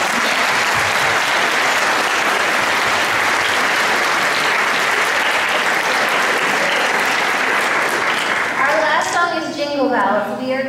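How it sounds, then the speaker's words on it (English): A school audience gives loud, sustained applause for students and adult aides at a life skills bell choir performance, with the clapping thinning near the end as a voice begins speaking. "I hope you will join me with a round of applause for them"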